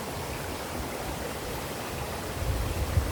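A river stream rushes at a picnic spot on Yellow Dragon River, Lantau Island, Hong Kong, a steady broad wash of flowing water with no voices.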